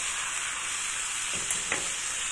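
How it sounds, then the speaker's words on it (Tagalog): A steady hiss of frying comes from a pan as vegetables with rice wine are sizzled, with one or two brief utensil clinks of stirring near the end. "So, ngayon, haluin lang natin sandali."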